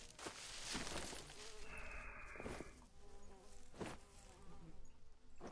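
Bees buzz in the jungle survival video game Green Hell, a faint, wavering insect drone heard over a soft, noisy background with no talking.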